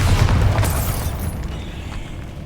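A Bombarda explosion spell goes off in Hogwarts Legacy, a loud, full booming blast with a bright burst near the start that rolls into a long, dense rumbling decay lasting a couple of seconds.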